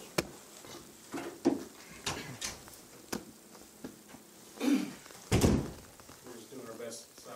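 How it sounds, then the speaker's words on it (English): Several doors are shut one after another, heard as a series of close thunks and bumps spread across the stretch, with people talking quietly in between. "Shut the doors because"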